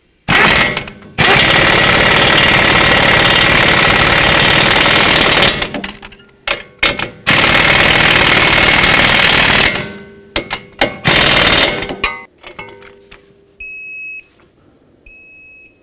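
Strut bracket nuts being tightened on a 2006-2011 Chevrolet HHR front strut: loud, harsh bursts of a buzzing power tool come in several long runs separated by short pauses, followed by a few quiet electronic beeps.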